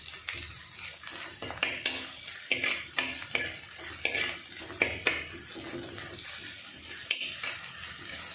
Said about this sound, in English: chopped onions and curry leaves. And saute them